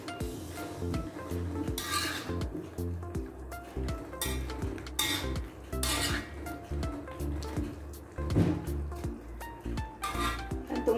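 A spoon stirs Bandung-style seblak with cabbage in a pan, giving repeated scraping clinks and knocks in an irregular rhythm, close and moderately loud, over a steady low background.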